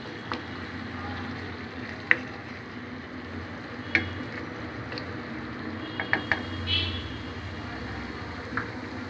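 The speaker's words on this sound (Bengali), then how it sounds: "প্রত্যেকটা মাছগুলোকে আমি খুব ভালোভাবে উল্টিয়ে দিব যাতে মশলাগুলা মাছের মধ্যে সুন্দরভাবে ঢুকে যায়" Large tilapia pieces fry in a pan with a soft continuous sizzle, broken by a few sharp clicks and scrapes of a utensil as the fish is turned, fairly quiet and without speech.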